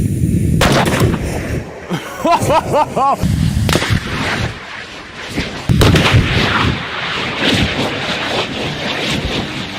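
Loud blasts ring out at a shooting range: a sharp explosion early on, a rapid burst of ringing shots, and another heavy boom later, all over gusty wind noise.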